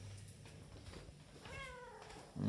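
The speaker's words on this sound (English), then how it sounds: "Yes, my cat." A pet cat meows once in a short rising and falling call, close and fairly clear over a low room hum, with a soft thump near the end.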